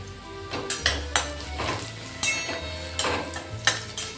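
Halved garlic cloves frying until golden in a pan, with several close, clattering metal scrapes and knocks of a ladle over a soft underlying sizzle and low hum.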